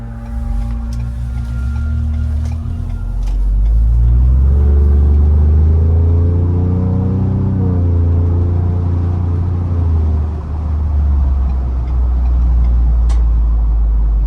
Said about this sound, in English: take this 21 Bronco Badlands out on the road for a quick test drive